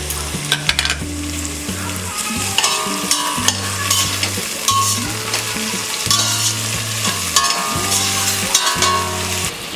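Crushed green chillies, ginger and garlic sizzle loudly in a hot oiled pan for aloo pulao, a constant crackling hiss broken by sharp scraping stirs, with soft background music underneath.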